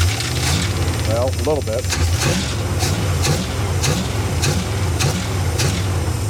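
The engine of a 1977 Dodge motor home parts truck runs close by just after being revived, a steady rumbling idle with rhythmic pulses, while people talk over it.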